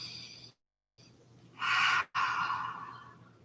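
A person breathes during a gentle yoga movement session, soft airy breaths with a short pause, then a louder, fuller inhale and a long exhale, close and quiet.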